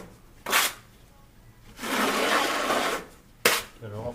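A trowel scraping thinset off its blade while installing Schluter Kerdi sheet membrane on a real jobsite, two short sharp rasps and then a longer grinding scrape in between, close and alone.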